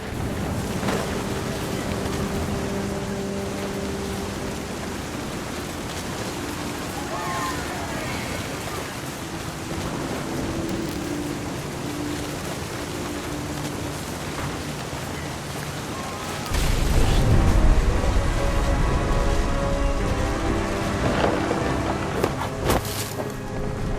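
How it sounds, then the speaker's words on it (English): Steady rain and storm rumble in the game What Remains of Edith Finch, a constant wash of noise that swells suddenly with a heavier, louder surge late on. "The thunder sounded much too close and full of angry power."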